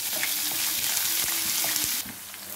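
Onions sizzle and crackle steadily in hot oil while frying for a bitter gourd curry, with occasional stirring clinks over a continuous loud hiss.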